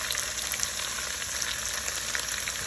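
Ground green chili and ginger frying in a pan, a dense, even sizzle heard up close and alone, with no voices.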